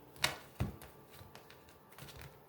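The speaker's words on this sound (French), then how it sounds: "Allez, on va faire une coupe." A deck of cards being cut during a tarot reading: a couple of sharp papery snaps up close, followed by softer light rustles and taps.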